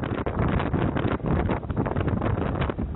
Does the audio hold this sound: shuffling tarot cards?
no